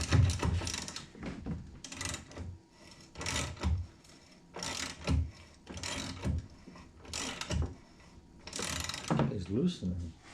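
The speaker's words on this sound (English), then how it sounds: "slide your socket right on top both of them, and you can ratchet it." A socket ratchet clicks steadily while loosening bolts on a vintage Honda snowblower, giving rhythmic bursts of close, loud ratcheting with brief pauses between strokes.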